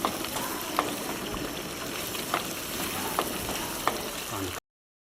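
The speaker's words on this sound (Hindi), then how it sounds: "चिकन का कलर देखें, अच्छे तरीके से इसकी भुनाई कर लेनी है।" Chicken karahi fries in a pan with a steady, close sizzle, while a spoon scrapes and stirs it in a few sharp clinks spread across the sound.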